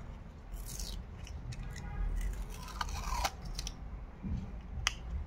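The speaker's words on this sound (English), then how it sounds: "So let us remove the paper." Protective paper being peeled off a small acrylic pyramid built for a smartphone 3D hologram: close, crinkly rustling and scraping with sharp snips and crackles throughout, no talking.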